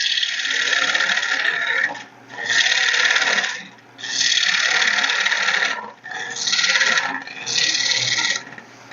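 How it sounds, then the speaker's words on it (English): A wood vase is roughed out on a lathe, the gouge cutting in loud, harsh rasping passes of one to two seconds each, five strokes separated by brief pauses. "I'm going to go ahead and work off some of this material up here. Just kind of get that roughed out of the way."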